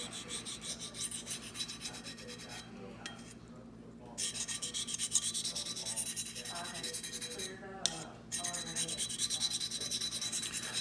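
Spyderco Chaparral knife blade being drawn across a sharpening stone in repeated close rasping strokes, a continuous gritty scraping broken by two brief pauses between passes.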